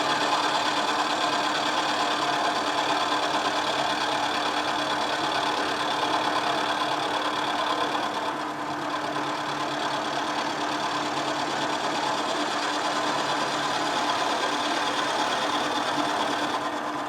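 A tool and cutter grinder works a reasonably hard cutter with a steady, loud mechanical whine and continuous grinding hiss, holding evenly throughout with a brief dip midway.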